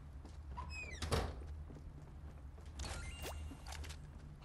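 A door opening or closing in the Fortnite video game, a soft thunk followed by a sliding scrape, heard once against a steady low background hum with faint game noises.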